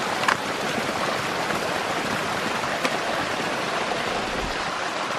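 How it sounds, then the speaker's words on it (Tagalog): Stream water flowing near fruit orchards in Pakistan, a steady, even rushing wash that stays constant and fairly loud throughout, with no voices. "Tapos yung tubig na to napunta sa lawa."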